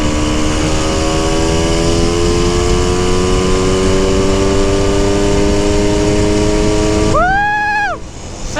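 A vintage Honda MT250 motorcycle engine runs at a steady, loud idle with harmonics that drift gradually. Near the end the engine is revved up sharply and then drops back, with no voices.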